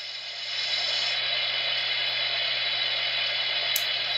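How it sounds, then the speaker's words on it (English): Radiator cooling fans from the sound decoder of an HO scale Baldwin centipede model locomotive whir as a steady, even mechanical drone with a low hum, running continuously at close range. "F10 supposedly will do the radiator cooling fans."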